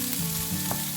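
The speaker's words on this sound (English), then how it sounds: "Then add your chopped onions. Mix well and cook for about a minute." Chopped onions sizzle and crackle steadily in a hot pan as they are stirred, a close, continuous frying hiss with occasional scraping.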